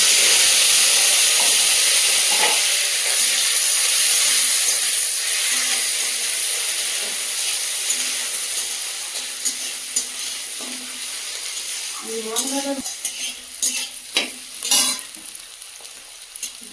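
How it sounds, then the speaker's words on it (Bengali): Ginger, garlic and onion fry in hot oil in a kadai, a loud steady sizzle that gradually eases, then a flurry of spatula scrapes and clatters against the pan. "আদা রসুন আর পেঁয়াজ কড়াই দিয়ে দেবো"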